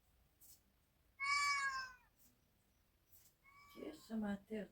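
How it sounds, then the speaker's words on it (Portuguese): Recorded cat meows played back through a mobile phone speaker: one drawn-out meow, then a pause, then a cluster of shorter meows, close and clear in a quiet room, with a voice briefly heard near the end. "Quer ver mais gato aqui no celular?"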